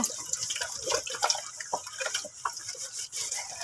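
Running water rinses dish-soap foam off tube-feeding equipment, a steady close splashing and trickling with uneven drips that continues throughout, with no talking.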